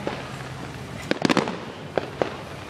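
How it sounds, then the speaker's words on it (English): Fireworks bursting over Nebraska, heard from a distance: a quick cluster of sharp pops and crackles followed by a few scattered single bangs over low background noise. "fireworks."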